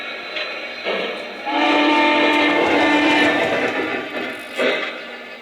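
A Lionel model train engine starts up with a loud, steady mechanical hum and whine, bracketed by short bursts of hiss.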